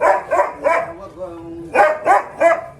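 Large German Shepherd dog barking in repeated bursts, three quick barks, a short whimpering pause, then three more, close and loud outdoors.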